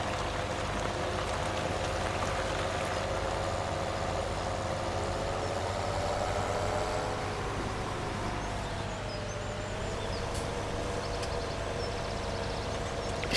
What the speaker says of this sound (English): You see the tractor really struggling under the weight of this trailer.